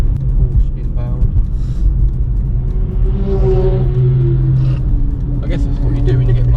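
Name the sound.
Porsche approaching at the Nürburgring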